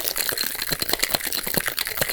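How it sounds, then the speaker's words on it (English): A cocktail shaker holding one small ice cube and one big rock is shaken hard, giving a fast, loud, even rhythm of rattling knocks with no voices. "we're gonna shake till we can't hear that small cube anymore."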